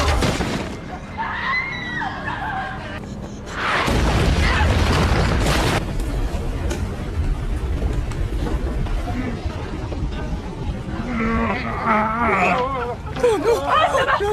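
A bomb detonates in a samurai action film, a loud broadband blast that swells suddenly and holds for a couple of seconds amid a dense soundtrack of screams, clattering debris and music.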